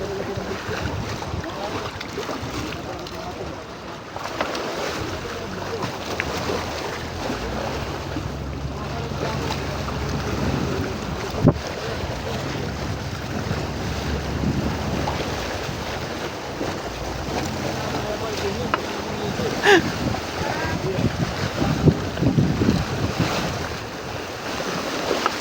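A boat is towed home through rough weather, with steady strong wind buffeting the microphone and waves and engine-like rumble running continuously throughout, a few faint clanks scattered near the end.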